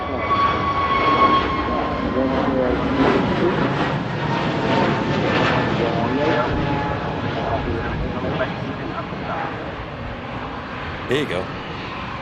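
A KLM airliner passing at Manchester Airport, its jet engine roar steady and loud throughout, with people chatting over it.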